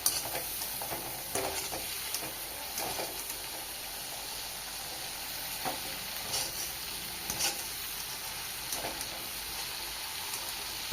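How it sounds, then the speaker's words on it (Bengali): Shrimp fry in hot oil in a pan, giving a soft, continuous sizzle with scattered crackles and occasional stirring clatters, fairly faint and steady with no talking. "চিংড়ি মাছ ভেজে নিয়েছি, তুলে নেব।"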